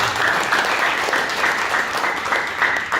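An audience at an Indonesian talk bursts into dense, steady clapping that stays strong and even for the whole stretch, with no voices over it.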